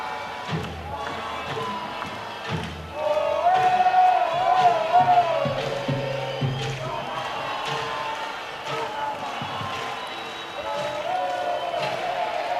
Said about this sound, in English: And this crowd is about to erupt.